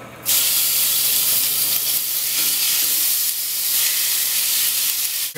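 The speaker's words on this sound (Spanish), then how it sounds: "Lo que voy a hacer es primero sellar la carne" A loud, steady sizzle and hiss of meat searing in oil over very high heat, close up, continuing without pause.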